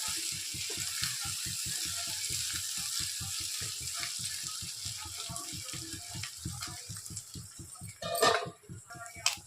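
Chicken liver frying in a pan gives a steady close sizzle with a faint rhythmic bubbling underneath, and a brief louder clatter near the end.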